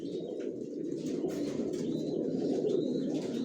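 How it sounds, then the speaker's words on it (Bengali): Racing pigeons of Janssen line stock coo softly and continuously in a loft, a low steady murmur with a few faint higher chirps. "সব একই লাইনের কবুতর পালি আমি জনসনের, আর সব লংয়ের কবুতর পালি"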